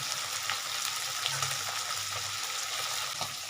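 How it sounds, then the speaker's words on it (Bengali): Steady sizzling of small mourola fish frying in hot oil on a gas stove, a continuous crackling hiss with occasional faint pops, no voices. "আবার একটু ভেজে নিই ভেজে নিয়ে হয়ে যাবে আমার"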